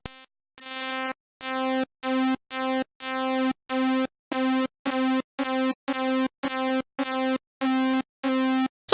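Pulse-width square-wave patch on the Synth1 software synth with a brassy, trumpet-like tone, playing a series of short, bright, detached notes in a steady rhythm, loud and alone with no talking.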